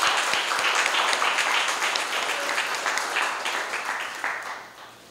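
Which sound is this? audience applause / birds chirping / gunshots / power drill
audience applause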